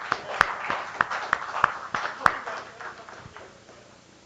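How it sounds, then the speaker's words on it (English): Sparse clapping from a small audience at a tech meetup talk, a handful of distinct hand claps in an uneven rhythm, moderately close and fading out over a few seconds, with faint murmuring underneath. "Round of applause for Bhanu."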